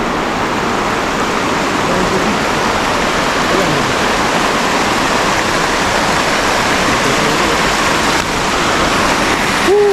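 Steady rushing of flowing stream water, loud and continuous throughout with no pauses.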